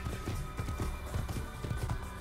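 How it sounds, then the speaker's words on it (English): Horse hooves clip-clopping at a quick, steady gallop during riding in Assassin's Creed, a continuous rhythmic patter of hoofbeats with no talking over it. "Riding horses in this game"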